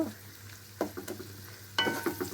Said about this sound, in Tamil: இது பூண்டு கொஞ்சம் வறுபடட்டும்